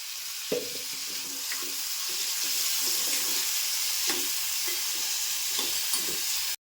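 Onion and tomato frying together for a bitter gourd curry, a steady loud sizzle broken by periodic stirring scrapes, close up and without talk, cutting off abruptly at the end.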